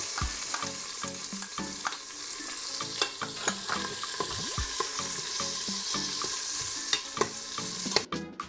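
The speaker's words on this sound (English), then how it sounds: "And now I'm going to go ahead and add the onions." Onions fry in an Instant Pot with a continuous close sizzle, punctuated by the clicks and scrapes of a spoon stirring them around the pot.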